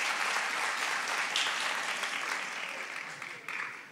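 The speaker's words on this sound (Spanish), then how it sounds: "Aplauso para él." Applause from a live comedy-show audience at Enjoy Santiago greets a magician from San Felipe, a dense, steady burst of clapping heard alone that gradually thins toward the end.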